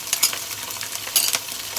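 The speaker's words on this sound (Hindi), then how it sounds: "और लहसुन को भी फ्राई होने देते हैं।" Garlic frying among golden brown onions in a pan, a continuous close sizzle of hot oil with a few louder stirring scrapes and crackles over a short stretch.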